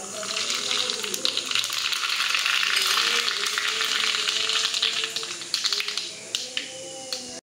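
Mustard seeds, sesame and asafoetida crackling in hot oil in a pan, a steady bright sizzle with scattered sharp pops near the end; someone speaks quietly underneath.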